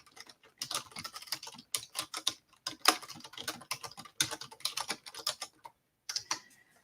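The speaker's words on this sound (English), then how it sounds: "I'm going to type it here." Typing on a computer keyboard, quiet close key clicks in irregular bursts with short pauses between, no talking.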